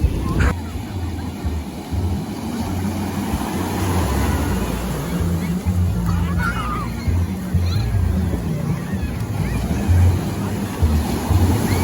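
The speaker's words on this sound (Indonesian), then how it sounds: "Ombaknya udah sampai di sini." Ocean waves wash up onto a beach in Aceh, Indonesia, a steady close rushing surf with gusting wind on the microphone and faint background activity.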